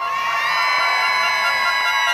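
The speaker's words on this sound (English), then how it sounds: "Everybody, scream!" A rally crowd in Richmond Hill, Queens screams and cheers in one sustained, loud, dense roar that holds steady from start to finish with no pauses.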